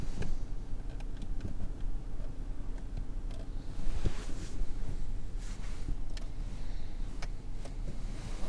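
Steady, fairly strong rush of air from newly fitted rear second-row vents in a Seat Arona/Ibiza, a continuous broadband hiss with a few faint ticks inside the cabin.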